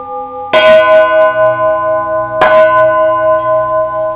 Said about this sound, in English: So I'm going to ring it now. And depending on where you hit it, it has a different sound.